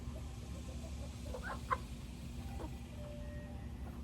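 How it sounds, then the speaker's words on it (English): Backyard chickens taking a dirt bath, giving a few soft, scattered clucks over a steady low background hum, faint and somewhat distant. "This is them taking a dirt bath."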